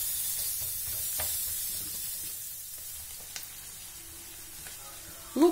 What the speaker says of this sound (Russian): Нам нужно лук обжаривать до прозрачности.